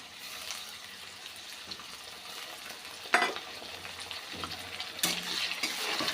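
Onion, potatoes and tomato sauté together in a pan for masala rice, a soft, steady sizzle with occasional scraping stirs and a couple of sharper clatters, fairly quiet and close.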